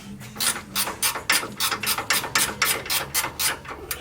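A ratchet wrench loosens bolts on a fabrication job so shims can be fitted, giving a close, steady run of about fifteen sharp clicking bursts over four seconds.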